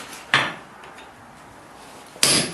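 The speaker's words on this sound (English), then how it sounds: "when I do cut these off, I'm going to angle my chisel towards myself here." Two sharp, ringing hammer blows land on a chisel cutting a forged three-quarter-inch steel bar, about two seconds apart, with a quiet gap between them.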